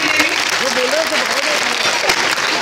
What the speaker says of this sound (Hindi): तालियां सबसे के लिए